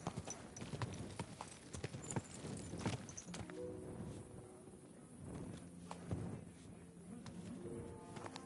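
Hooves clip-clop at a slow walking pace in the video game Kingdom Come: Deliverance 2, steady and fairly close, with a few louder knocks among the rhythmic steps.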